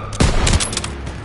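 Gunfire in the war shooter Call of Duty: WWII: sharp, loud shots close by, bunched into a short rapid burst with battlefield clatter behind.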